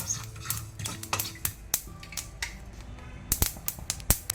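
Roasted sesame seeds being scraped and tipped out of a pan with a spoon, giving a run of sharp metallic clinks and scrapes, irregular and close, with no talking.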